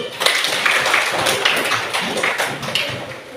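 A classroom of students applauding during a coding and artificial intelligence training session, brisk dense clapping with a few louder hand claps standing out, steady for a few seconds.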